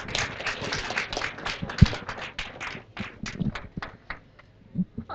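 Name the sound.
audience applause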